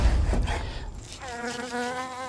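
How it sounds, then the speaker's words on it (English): A close insect buzz drones steadily with a whining tone, following a brief burst of louder rustling at the start. "I have an influx of bees."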